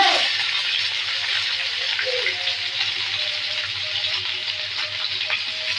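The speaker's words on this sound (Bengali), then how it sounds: "আমি পেঁয়াজ কুচি দিয়ে দিচ্ছি" Chopped onions sizzle steadily in hot oil left from frying fish, a close, constant hiss with faint stirring.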